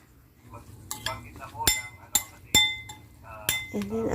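Salt being mixed into mushroom omelette ingredients in a bowl: a spoon clinks sharply against the bowl five or six times at an irregular pace, close and clear, over a low kitchen hum.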